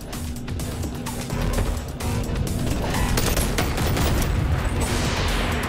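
A shotgun fires in the BONELAB VR game, sounding as a dense run of loud, close blasts and crashes over continuous rumbling game noise, without any voices.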